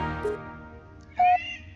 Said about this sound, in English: this is my black cat.